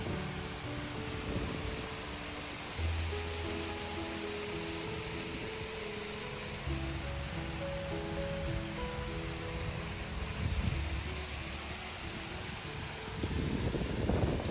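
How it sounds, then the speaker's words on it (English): Steady wind rushes and buffets across the microphone, a dense continuous roar with tonal murmurs underneath, no clear voices. "it's so windy out here"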